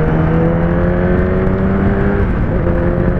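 A Kawasaki ZX-10R motorcycle engine revs on the throttle, a loud close steady whirring roar with a smooth rising pitch that shifts briefly near the end.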